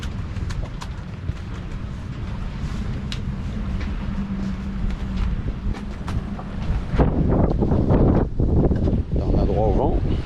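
Wind buffeting a microphone outdoors on the deck of an anchored boat near Elba and Corsica, a steady roaring rush that grows stronger and gustier in the second half, with voices talking beneath it.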